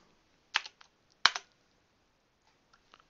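Someone types a short command on a computer keyboard. Two quick clusters of crisp key clicks come close together, followed by a few faint taps, in an otherwise quiet room with no talking.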